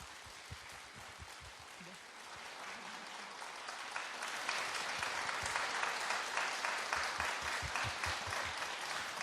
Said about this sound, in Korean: 따뜻한 박수로 환영해 주시기 바랍니다